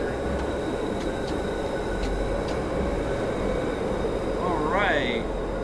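A 1972 Tube Stock train on the Bakerloo line in Train Sim World 4 runs with a steady low rumble and rolling noise, a few faint clicks, and a rising whine near the end.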